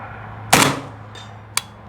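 PSA 300 Blackout KRINK rifle firing MagTech 200-grain subsonic rounds outdoors: one loud close shot with a short ringing tail, then a faint distant crack, likely the bullet striking a 100-yard target.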